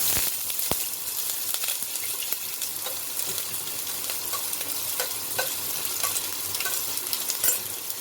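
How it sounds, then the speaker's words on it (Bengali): Chopped onion sizzling in mustard oil in a wok, a steady crackling fry with occasional sharp pops and light stirring, close and continuous with no talking. "এর মধ্যে কুচনো একটা বড় মাপের কুচনো পেঁয়াজটা দিয়ে দেবো"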